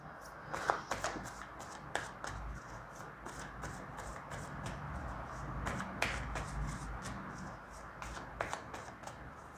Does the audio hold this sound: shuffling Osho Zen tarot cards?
yes